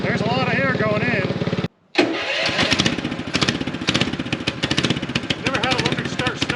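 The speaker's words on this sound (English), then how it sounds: "Never had a electric start snowmobile before." Small homemade kid's snowmobile engine cranked by an electric starter, a whirring crank that drops out briefly before the engine catches and runs at a steady, close, loud putter.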